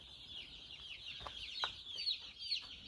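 Broiler chickens in a large tipi shelter give soft, repeated clucks and chirps close by, a steady flock chatter with a few sharper calls and no talking.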